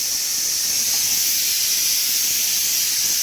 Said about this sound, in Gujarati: ચિંતા કુકર હેરાન કરે ઘડીક ઘડીક વારે, સીટીઓ માર માર કરે.